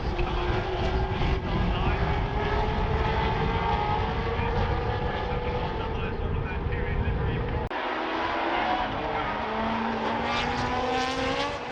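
1980s Formula One cars racing at Brands Hatch during the Masters Festival, loud sustained engine wail with pitch shifts as cars pass, and a sharp change mid-way as another car howls by; a voice talks over it.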